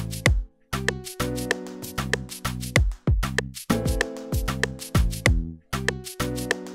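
A full Afrobeat-style remake beat of a song plays, with punchy kicks, bright percussion hits and a sustained chordal layer in a steady syncopated groove. It is loud and close, with brief dropouts between phrases and no talking.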